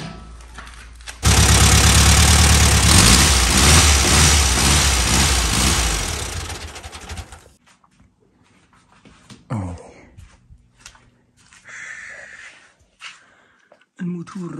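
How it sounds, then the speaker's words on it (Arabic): A boat's inboard engine, under overhaul during a ship renovation, runs with a loud, steady, knocking rumble for about six seconds, then cuts out, leaving scattered clanks and voices talking. "الموتور المحرك في حالة رائعة"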